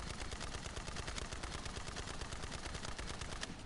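Heavily armored enemies in the Borderlands video game fire corrosive projectiles in a dense, rapid stream of crackling shots, continuous and fairly faint throughout.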